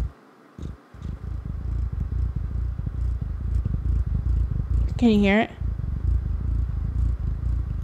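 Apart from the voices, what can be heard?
cat purring into the microphone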